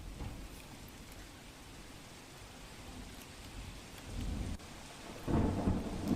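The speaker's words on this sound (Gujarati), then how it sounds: "સુરતની અંદર સારો વરસાદ વરસી રહ્યો છે" Heavy rain pours in Surat with thunder, a steady hiss broken by two deep rumbles late on, the second louder and nearer. No one speaks.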